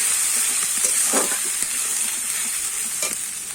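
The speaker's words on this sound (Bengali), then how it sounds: "এবারে এখানে কিন্তু আদা রসুন আর পেঁয়াজ বাটা আছে, সেটা আমি কিন্তু দিয়ে দিলাম। দিয়ে কিন্তু আমি ভালো করে কষাতে থাকবো।" Ginger, garlic and onion paste fries in hot oil while being stirred steadily, a bright continuous sizzle with scraping strokes and a few louder stirs, close and alone without talk.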